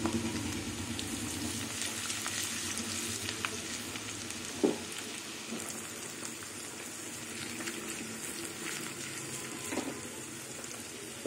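Chopped ginger and garlic sizzling in mustard oil, a dense, even hiss of frying that runs without a break for several seconds, with a couple of faint clinks from a utensil and no voices.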